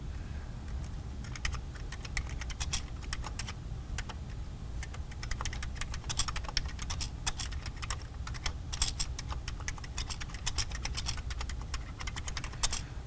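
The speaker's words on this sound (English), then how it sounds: "So let's go ahead and do a little bit of typing here." Steady typing on a Commodore Plus/4 computer keyboard, a continuous patter of close plastic key clicks at a quick, even pace over a faint background hum, with no one speaking.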